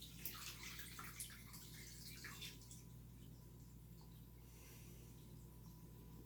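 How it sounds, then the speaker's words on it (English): Water is poured from a bucket into a fish tank, a loud close splashing gush at first that settles into a quieter steady trickle. "I put my hand underneath the bucket, underneath the water, the flow of water, and then I just pour it in like that"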